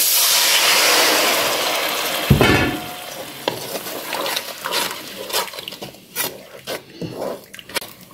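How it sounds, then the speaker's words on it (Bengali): Spice paste fries in a pan with a dense sizzle at first, then a spatula starts stirring and scraping, leaving uneven bursts of crackle and scraping that fade gradually, with no speech. "মশলাটা আমি 2 মিনিটের মতো ভেজে নেব"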